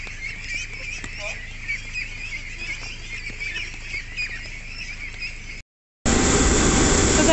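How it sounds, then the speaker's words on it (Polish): Pekin ducklings on a duck farm call in a dense, continuous chorus of high peeping, close and steady, which breaks off briefly before a loud burst of broadband noise. "Kaczuszki niecierpliwie oczekują na ścielenie"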